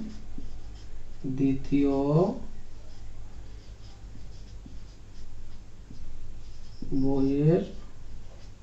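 Chalk or a marker writes numbers on a board during a sixth-grade math lesson. Faint scratching strokes continue steadily under a teacher's voice, which speaks twice in the middle.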